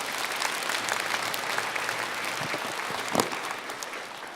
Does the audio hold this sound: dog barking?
no